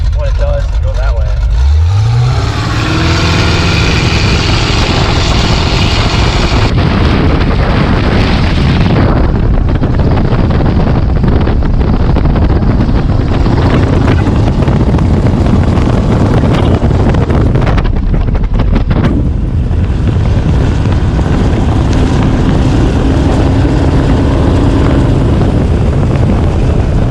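A Sleekcraft Aristocrat tunnel hull boat with a MerCruiser engine and Street Demon 625 carb runs at speed, its loud, steady engine roar mixed with heavy wind buffeting and water rush throughout.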